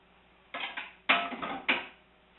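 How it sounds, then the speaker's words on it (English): Santa Fe rice and sausage spooned into a round oven dish, three distinct close scraping clinks of a utensil against the dish with short pauses between, no talking. "I just have a nice round oven dish here that I'm just going to add my Santa Fe rice and"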